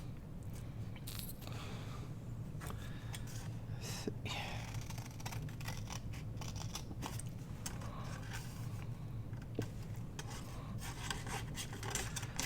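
Steady rasping snips and rubbing of scissor blades through paper while cutting a file folder journal insert, close by and continuous, with faint scraping and handling noises throughout.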